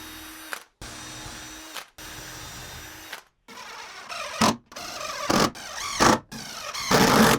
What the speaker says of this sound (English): I'm just going to do a little pre-drill so I can get started